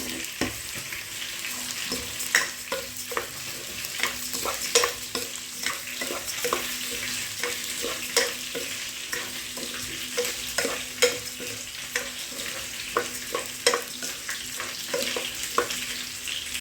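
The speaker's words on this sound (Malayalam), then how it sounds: "ഈ കഴുകി ഊറ്റി വെച്ച അരി 2 മിനിറ്റ് ഒന്ന് വറുത്തെടുക്കുക" Washed, drained rice fries in the oil left from frying onions, for chicken majboos: a constant soft sizzle with regular scraping stirs of a spoon against the pan, close and steady, with no talking.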